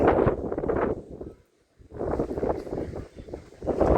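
Strong cyclone gusts of wind in Kakinada, among coconut trees, buffet the microphone in loud roaring bursts, dropping briefly to near silence before surging again.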